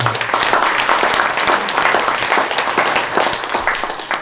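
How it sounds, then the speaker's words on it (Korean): Dense, steady applause from a ceremony audience marking the proclamation of Korean Painting Day and the founding of a Korean painting development council, a continuous wash of many hands clapping close and loud throughout. "큰 박수를 보내주시면 감사하겠습니다"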